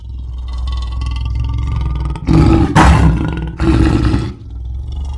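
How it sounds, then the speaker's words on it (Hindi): A cartoon lion in a jungle animal story lets out a loud, deep roar in two long bursts, the first with a brief break, then the rumble settles back into a low background. "गर्जना करते हुए शेर आया।"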